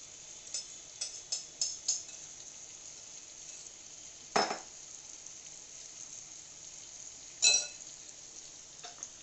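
Paneer with spices fries in a pan over a medium-high flame, giving a steady soft sizzle with a few light clinks and scrapes from a utensil and two sharper clatters, with no talking.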